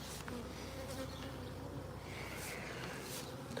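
Bees buzzing continuously around a honey harvest, a dense, steady hum of many insects close by with no talk over it.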